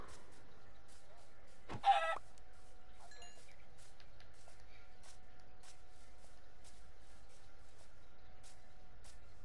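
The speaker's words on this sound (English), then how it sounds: "I'm gonna kill this chicken now." A chicken in Minecraft gives a single short cluck near the start, and a faint steady background hum fills the rest.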